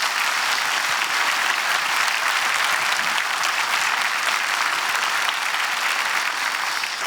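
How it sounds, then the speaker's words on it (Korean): A church congregation at a Korean dedication and ordination service claps loudly to welcome a guest, a dense and sustained wall of applause that holds level for the whole stretch. "큰 박수로 마지막으로 모시겠습니다"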